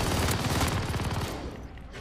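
An MG machine gun in the Gulag of the Warzone video game fires a rapid, dense burst of gunfire that lasts about two seconds, heard loud and up close.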